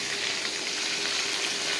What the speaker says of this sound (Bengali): তো মাছগুলো আগে ভেজে নিই